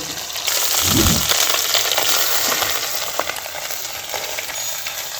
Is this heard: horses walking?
no